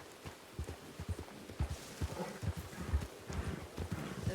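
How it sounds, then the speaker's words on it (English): A horse in the RedM game clip-clops nearby, its hooves striking in a steady, quick rhythm of dull thuds over a soft background, with no talking. "There's a horse to our right."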